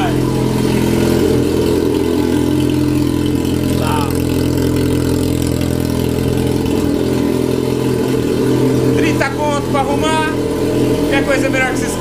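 A Yamaha XJ6 motorcycle with a welded exhaust pipe idles loudly and close with a steady low rumble, then blips and revs several times near the end while people talk over it.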